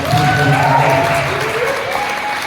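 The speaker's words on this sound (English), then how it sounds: "Let's give them another big round of applause" Audience applause for a panel of dancers and choreographers, a loud, steady round of clapping with a few voices and tones threading through it.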